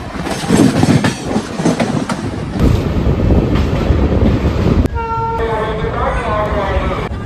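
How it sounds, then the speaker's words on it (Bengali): Mayurakshi Express train on the rails at Bandel, with a loud, steady rumble and rail clatter close by, followed in the later part by a sustained tonal horn or whistle over the running noise. "মৈরাকি এক্সপ্রেস এখন চলে এসছে অ্যান্ড আমরা সিটও পেয়ে গেছি"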